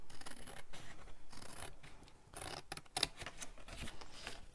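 Scissors cutting along the fold of a card for a handmade magic card, a run of close, crisp snipping and scraping strokes in uneven rhythm with brief pauses, no voices.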